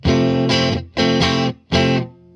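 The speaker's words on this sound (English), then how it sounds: "I think with overdrive, it's in some ways a very subtle sound" Three sustained electric guitar chords through an overdrive pedal with the drive set low, gritty, each ringing out before a short gap, loud and close.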